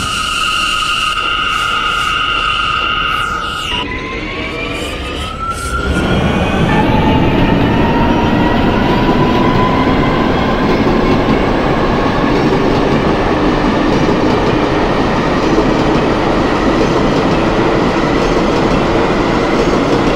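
An R179 subway train in the OpenBVE simulator runs on the New York A line, with a steady loud rumble of wheels and motors, a rising whine as it accelerates, and faint clicking rail joints.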